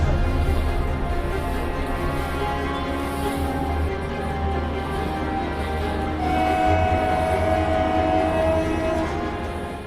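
Train at Amethi railway station, a loud, continuous rumble with steady tonal hum and a drawn-out horn-like tone, heard close without speech.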